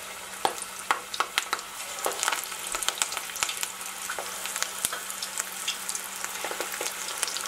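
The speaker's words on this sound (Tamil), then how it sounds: "இந்த அளவுக்கு உருட்டிட்டு நம்ம எண்ணெயில் போட்டு எடுக்க வேண்டியதுதான்." Mutton kola urundai balls flavored with coriander fry in hot oil, a steady close sizzle scattered with sharp crackles and pops, some bursts louder than others.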